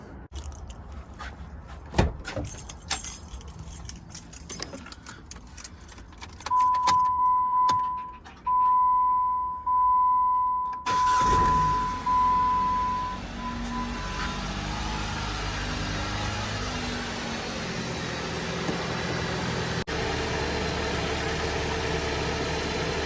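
Keys jingle and rattle, then a 2015 Jeep Patriot engine cranks in several labored bursts before catching and settling into a steady idle.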